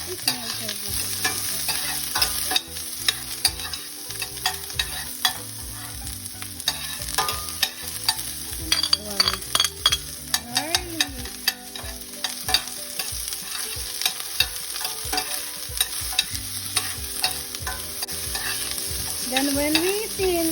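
Onion fries in oil in a pan for corn soup, a steady sizzle under repeated scraping and clattering strokes of a utensil stirring it, close and continuous throughout.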